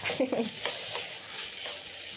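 Beef liver sears and sizzles in a pan for a liver wet fry, a steady close frying hiss with a few stirring scrapes early on; no one speaks.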